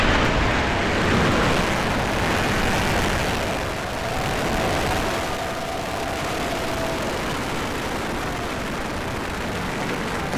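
Rocket liftoff for the CRS-19 mission, heard as a loud, steady broadband roar that fills the whole clip without letup and eases only slightly partway through.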